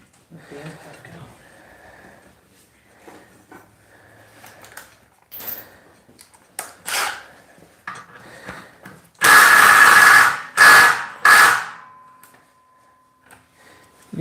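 Impact wrench bursts in several loud, short rattling runs during an engine install on a Volvo at final assembly, close up, among quieter shop clatter and pauses.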